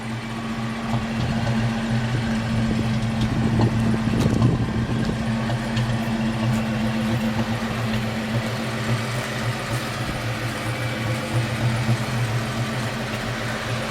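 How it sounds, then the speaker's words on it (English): A 1959 Chevrolet Apache 3100 pickup truck engine idles steadily and low throughout, rumbling evenly with a slight roughness and no changes in pace. "Really healthy sounding engine."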